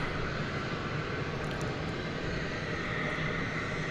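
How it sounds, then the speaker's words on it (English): McDonnell Douglas MD-11 airliner moving out for takeoff at Dallas Fort Worth airport, a steady, distant broadband engine roar holding constant without a break. "So the MD-11 is now on the move."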